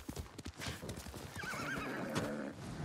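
Horse hooves clip-clopping in a quick uneven rhythm, then a clear neigh and whinny, from the samurai open-world video game Ghost of Tsushima, heard up close over a steady outdoor ambience with no talking.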